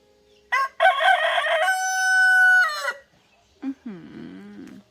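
A rooster crows loudly and close by, one long drawn-out call, followed by a few shorter clucking sounds.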